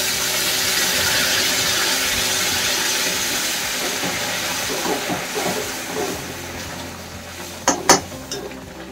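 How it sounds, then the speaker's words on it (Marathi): Steam rises from hot water in a cooking pot with a steady, close hiss that slowly fades. A few sharp clicks and taps come near the end. "वाफ येते आपल्याला."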